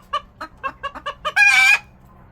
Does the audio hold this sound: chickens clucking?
yes